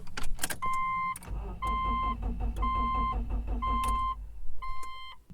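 A 2008 Subaru Outback with a badly worn front wheel bearing, heard from inside while driving: a heavy low droning growl under repeated electronic warning chimes that beep in regular pairs.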